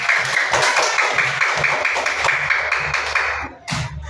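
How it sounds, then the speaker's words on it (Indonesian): Students in a classroom clap for a class-captain candidate, a lively close burst of hand clapping with some rhythmic thumps that cuts off briefly near the end before a short final flurry. "Tepuk tangan untuk Andi Ainun."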